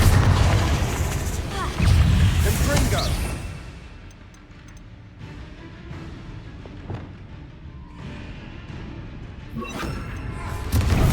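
Bombarda and Confringo spell blasts in Hogwarts Legacy boom out in loud, dense bursts, one cluster at the start and another near the end, with a quieter rumbling stretch between.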